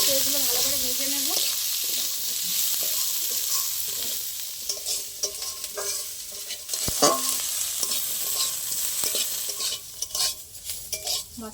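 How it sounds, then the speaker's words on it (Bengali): Garlic, ginger, slit green chilies and chopped onion fry in a pan with a steady sizzling hiss, broken by frequent stirring scrapes and clinks of the spoon against the pan. "আমি একটু এগুলো ভালো করে ভেজে নেব।"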